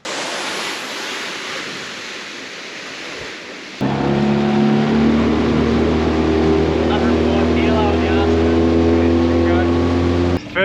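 Wind and water noise at first at Honeymoon Bay off the Gibb River Road, then a fishing motorboat engine starts up loud and close, droning steadily for the rest of the clip.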